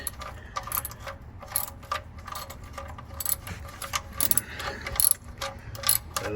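Ratchet wrench tightening a car's oil drain plug during an oil change, a run of quick metallic clicks in irregular bursts, close and fairly quiet with small tinny clinks.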